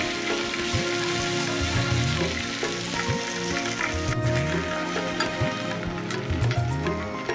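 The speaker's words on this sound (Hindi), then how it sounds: "some 20 to 25 curry leaves, some nice crackling sound" About twenty curry leaves crackle and sizzle in hot oil while frying for poha chivda, a close, busy spitting and popping heard over a faint background hum.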